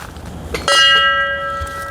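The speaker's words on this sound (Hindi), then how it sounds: "ये घंटियाँ हैं" Temple bell at a quiet hilltop shrine, struck once near the close with a bright ringing tone that hangs and slowly decays, alone over faint background noise.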